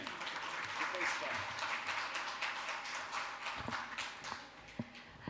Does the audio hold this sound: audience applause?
yes